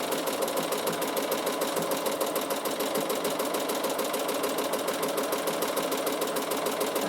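A Bernina sewing machine fitted with a ruffler foot stitches soft fabric, running at a fast, steady mechanical chatter close by with an even rhythm throughout and no talking.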